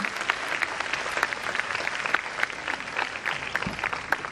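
Audience applause for a team at a formal ceremony with dignitaries, a steady, dense clapping from a sizeable crowd that holds at an even level throughout.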